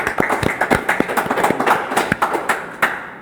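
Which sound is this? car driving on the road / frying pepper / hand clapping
hand clapping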